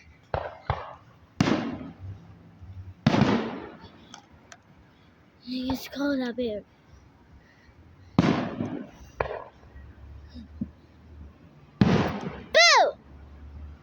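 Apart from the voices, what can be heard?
fireworks exploding outdoors at night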